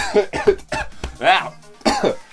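A run of several sharp, close coughs in quick succession, voiced and throaty, with brief gaps between bursts.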